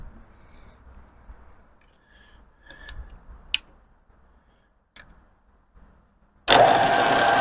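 A Smithy lathe/mill/drill combo machine is switched on after several faint ticks and clicks, then its motor runs loud and steady right up close.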